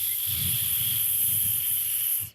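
A cartoon snake, Nagu, hisses in one long steady breathy hiss that runs unbroken for about two seconds before cutting off abruptly, over soft low background sound.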